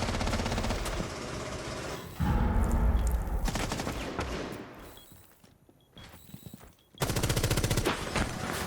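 Rapid automatic gunfire in the tactical shooter Rainbow Six Siege comes in loud sustained bursts separated by brief quieter gaps with faint footsteps and ambient game noise.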